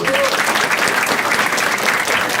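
Audience at a stand-up comedy show breaks into steady, dense applause, loud and continuous throughout with a broad crowd wash.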